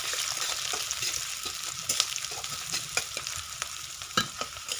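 Chopped onion frying in oil with whole garam masala, a bay leaf and two dried red chillies, a steady close sizzle with intermittent scraping stir strokes and small clicks, no voices.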